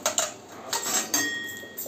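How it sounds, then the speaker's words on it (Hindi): Halwa prasad being transferred into a metal pot, with several clinks and scrapes of utensil against vessel in short bursts at uneven intervals, close and clear, no voices. "ये प्रसाद बना है जो मैं ट्रांसफर कर रही हूँ एक बर्तन में"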